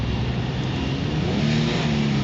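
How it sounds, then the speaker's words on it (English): A 2004 Kia Sorento engine revs close by with a slight hesitation, a steady rumbling drone that rises a little in pitch toward the end. "Only when I step on the throttle just a little bit, I hear a little hesitation"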